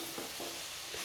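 Ragi noodle powder gets stirred into vegetables in a pan, giving a quiet, continuous scraping and light sizzle with no voices over it.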